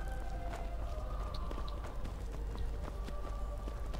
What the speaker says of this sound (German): Ich hole mal wieder mein Pferd ran